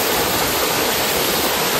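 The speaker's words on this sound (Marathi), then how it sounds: "तर हाच खरा waterfall. And this is waterfall." A waterfall sends water pouring over rocks in a steady, loud, dense rush that stays constant and close throughout, with no voices.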